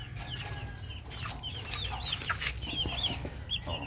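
Several hens cluck and murmur close by in a farmyard, with short rising calls scattered over a steady low background rumble.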